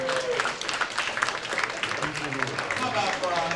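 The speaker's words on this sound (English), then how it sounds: "can we get a round of applause to the AI Collective for bringing us together tonight" Applause from the audience at a San Francisco tech demo night, a steady wash of clapping that fills the room under crowd voices and chatter for a few seconds.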